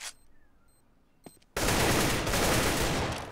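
Desert Eagle pistol fire in CS:GO erupts as a loud, sustained burst of shots and game noise, cutting in abruptly after a quieter stretch of faint ambient sound and a single sharp click.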